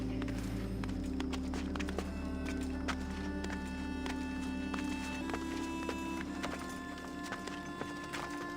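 Horse hooves clopping steadily as a horse climbs a mountain in the Assassin's Creed Odyssey video game, a continuous close rhythmic walk over droning background music, without talking.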